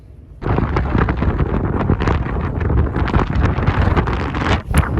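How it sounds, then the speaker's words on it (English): Strong wind buffets the microphone in loud, continuous rumbling gusts while walking in the Lake District, with no voices. "It's so windy."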